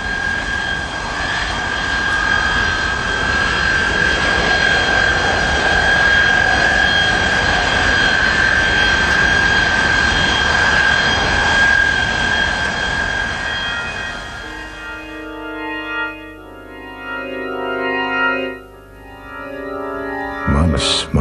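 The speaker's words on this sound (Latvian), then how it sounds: "Visi dzinēji strādā, bet mašīna nekustas." Aircraft jet engines run steadily with a loud, continuous whine and roar that thins out toward the end, leaving shifting lower tones and brief bursts.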